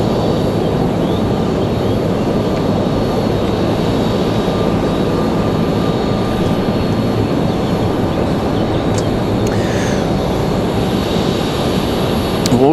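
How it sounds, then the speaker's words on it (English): An American Airlines Boeing 737-800 arrives from Philadelphia at Raleigh-Durham International, its engine noise a steady, loud broadband roar that holds throughout without talk. "Next arrival is going to be that American Airlines 2707"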